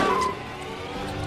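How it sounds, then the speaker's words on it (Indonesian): Racing cars in the animated film Turbo idle and rev their engines at a race start, a steady close engine drone with slight rises in pitch, heard alone. "Semua mobil mulai memanaskan mobilnya."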